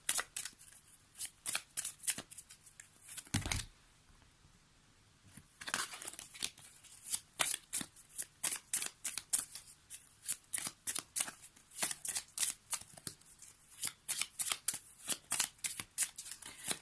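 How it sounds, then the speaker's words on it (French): Deck of oracle cards being shuffled by hand, with quick repeated riffling and slapping bursts in a steady rhythm, close and crisp in a quiet room, with one brief pause. "Allez, on va prendre une petite carte de l'oracle de Mélisse."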